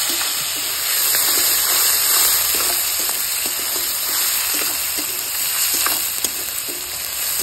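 Chopped onions frying with black cumin in a pan, a steady close sizzle with soft crackles and occasional stirring scrapes, no voices.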